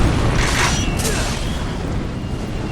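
Grenade blasts in the video game Resistance 2, heavy booming explosions with a rumbling, debris-filled tail that stays loud and dense throughout, overlapping one another with no clear gaps.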